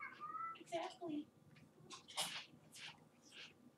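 A pet cat named Dr. Leo Havarti meows in a few short, quiet vocal bursts, interspersed with faint rustles and soft background sounds.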